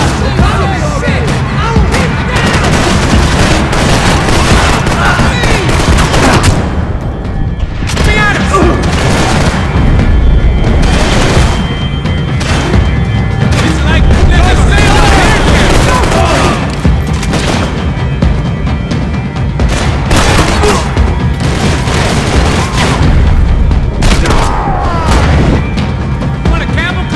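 Dense, loud Max Payne 3 firefight with gunshot bursts, heavy booms and crashing impacts continuing almost without pause, while voices shout over the chaos.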